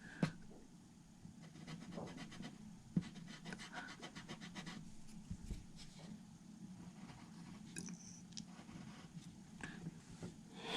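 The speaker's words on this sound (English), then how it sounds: "sorry about this heavy breathing again" Heavy, rhythmic breathing close to the microphone while drawing and painting, quiet and continuous, with faint scratches of pencil or brush under it.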